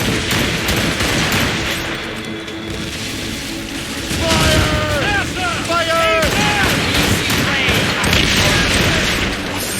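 Broadside cannon fire from a sailing warship in Assassin's Creed Rogue naval combat, a dense roll of booming shots under shouted orders, voices and swelling battle noise.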